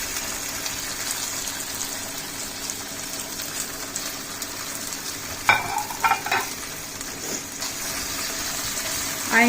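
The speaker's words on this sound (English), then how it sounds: "So let's fry the chicken pieces." Small chicken pieces fry in rice bran oil in a hot pan, giving a continuous close sizzle with occasional louder bursts of spattering and stirring.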